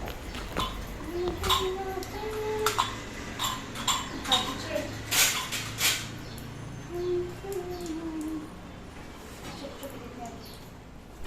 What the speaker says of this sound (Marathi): आता भांडी घासायला घेतली